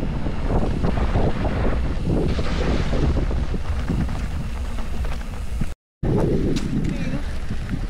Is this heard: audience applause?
no